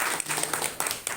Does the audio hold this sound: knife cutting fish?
no